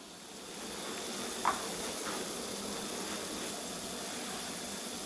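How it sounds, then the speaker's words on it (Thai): Water boils in a pot on a gas burner with a steady, faint hiss and soft bubbling, broken by one or two light taps. "น้ำเดือดแล้วค่ะ"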